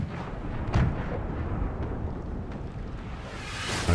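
An enemy ship fires its cannons in the Pillars of Eternity 2 video game, a booming barrage of deep rumbling blasts with a few sharper reports that come in quick succession over a heavy low roar.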